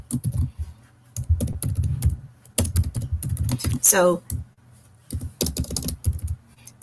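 Rapid, uneven keystrokes clatter on a computer keyboard while code is entered, coming in close bursts with short pauses, and a voice speaks briefly partway through.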